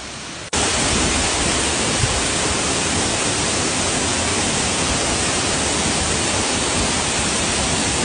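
Waterfall on a Mt Malarayat hiking trail roars as a steady, loud, broadband rush of falling water close by, starting abruptly and continuing unbroken.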